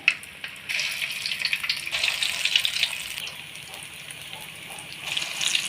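Meal maker (soy chunk) balls fry in hot oil in a pan, a loud, continuous hissing sizzle that bubbles and crackles close up, swelling after a brief start and holding steady throughout.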